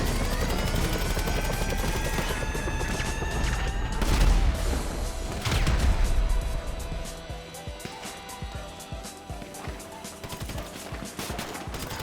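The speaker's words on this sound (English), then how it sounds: "Helicopters keep coming." Helicopters flying in the video game GTA V, a dense continuous rotor and engine roar mixed with bursts of gunfire and crashes, loud and busy throughout with a scattered rattle of shots toward the end.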